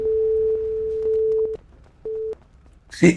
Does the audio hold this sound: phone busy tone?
yes